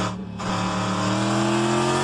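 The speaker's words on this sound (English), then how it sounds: "you can hear that V8. Do you want to hear it really loud?" A V8 race car engine from a GTE endurance race roars loud and close, with a brief dip before a sustained, rising drone.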